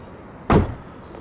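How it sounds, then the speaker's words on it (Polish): One firm slam of a 2016 VW Passat B8 Variant estate car door, a single heavy, low thud close by, with quiet surroundings before and after. "Wszystkie drzwi się ładnie zamykają"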